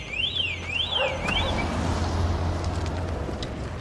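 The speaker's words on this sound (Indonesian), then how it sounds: "mendengar suara yang mencurigakan dari alarm mobil yang tiba-tiba berbunyi" A car alarm goes off with a rising-and-falling siren sweep repeating a few times, then fading into a steady low rumble of background noise.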